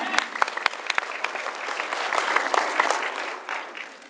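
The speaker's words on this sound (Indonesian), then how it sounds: "Kita beri tepuk tangan dulu untuk produk Elkan Spirulina" An audience claps at a talk on the Elken Spirulina product, a dense, lively applause with sharp individual claps standing out, continuing loud and steady throughout.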